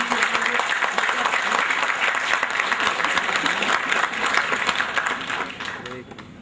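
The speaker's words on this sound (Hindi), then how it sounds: "प्लीज एलेक्सी जी को एक जोरदार तालियां मारते" A loud, sustained round of applause from a seminar audience in Bhilai, dense clapping from many people that holds steady and then fades toward the end, with voices mixed in.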